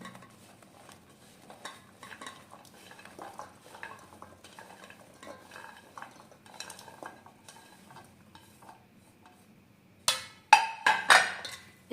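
A spoon mixing raw mango pieces into pickle spices in a bowl, heard as soft, irregular scraping and clinking strokes, with a louder burst of metallic clattering near the end.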